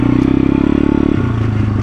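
A motorcycle engine labors steadily up close climbing a forest slope, its pitch dropping partway through as the rider shifts under load.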